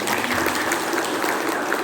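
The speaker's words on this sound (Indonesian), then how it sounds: "sekali lagi kita berikan tepuk tangan" Audience clapping at an Indonesian community outreach session on pig farming, an even, continuous patter of many hands at moderate volume, sustained throughout without a break.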